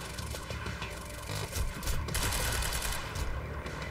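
Rapid automatic gunfire in a Quantum Break firefight, a dense steady stream of shots with heavier bursts midway, loud and close with no talk.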